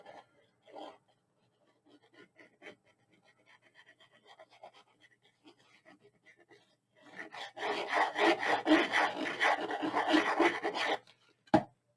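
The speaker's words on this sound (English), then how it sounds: "And burnish that in." Glued paper cover piece for a picnic-basket mini album being burnished down, with faint light rubbing followed by several seconds of loud, close, steady scraping strokes ending in one sharp tap.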